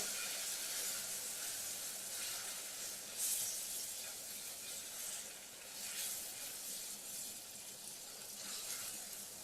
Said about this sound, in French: je mets tout de suite un morceau de margarine que je mélange au caramel